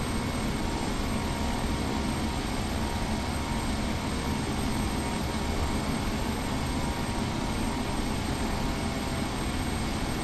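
An aircraft engine in the FSX flight simulator while flying over an airport: a steady, unbroken broadband drone at a constant loud level with no talk.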